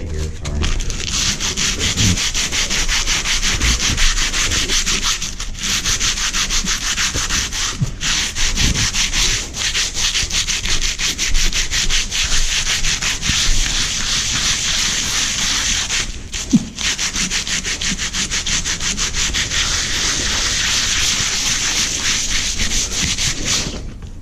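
Steady, continuous abrasive rubbing of sandpaper over Bondo epoxy filler on a rotted wooden door, loud and close, with a few brief pauses and no talking.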